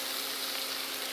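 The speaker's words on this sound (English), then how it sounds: "we really should put it in the pan and get a nice sizzle" Chicken thighs sizzle and spit in a hot frying pan, a steady, dense hiss of frying with no pauses, close and fairly loud, no voices.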